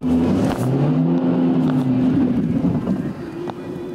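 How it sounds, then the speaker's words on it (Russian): A car stuck on a muddy country road in the Vladimir region, its engine droning steadily as the wheels spin in place, with wind buffeting throughout and the sound easing slightly near the end. "уже через несколько минут машина начинает буксовать"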